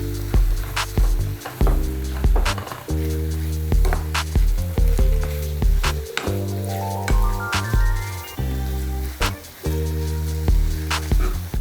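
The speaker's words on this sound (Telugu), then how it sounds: "ఈ కలుపుకున్న ఈ చికెన్ ముక్కలన్నిటిని మనం ప్యాన్ వేడైన తర్వాత అందులో వేయాలి" Marinated chicken pieces in a hot pan hiss and crackle steadily, with clinks and taps over the sizzle. Music plays loudly on top of the cooking sounds, and no one speaks.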